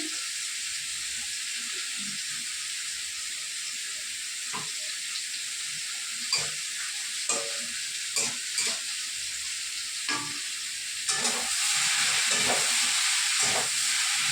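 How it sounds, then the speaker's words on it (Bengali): White cumin seeds sizzle in hot oil as a home-cooked tempering, a constant bright hiss with intermittent clinks and stirring knocks, the sizzle swelling louder toward the end. "এটা হচ্ছে সাদা জিরে ফোড়ন দিচ্ছি।"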